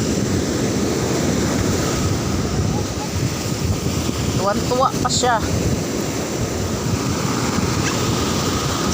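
Ocean surf churning at a beach during a typhoon, a continuous loud roar of breaking waves mixed with gusting wind buffeting the microphone, while a voice briefly speaks partway through.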